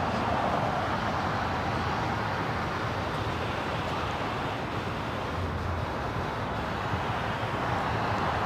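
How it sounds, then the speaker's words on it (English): An Emirates Airbus A380 taxiing at LAX produces a steady, loud, broadband engine rumble and roar that holds constant throughout, close and dense with no voices. "the Queen already rocking and rolling as the Emirates A380 Super just turns on its taxi lights."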